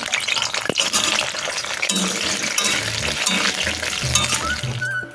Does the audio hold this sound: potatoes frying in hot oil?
yes